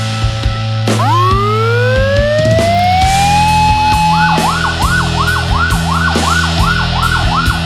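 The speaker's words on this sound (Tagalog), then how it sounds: "Pipick upin siya ng ambulansya." Ambulance siren at an emergency evacuation drill simulating an earthquake that led to a fire: a loud rising wail that climbs over several seconds, then switches to a rapid repeating yelp pattern, close and continuous.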